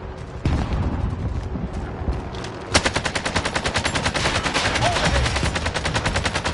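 Video game gunfire in Warzone: a single shot, then a dense rapid automatic burst that rattles on steadily and fairly close, with faint voices underneath.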